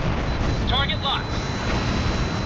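A missile strikes its target in the Tom Clancy's H.A.W.X. flight combat game, its blast merging into a loud, continuous jet-engine roar, with a brief radio-style tone near the start.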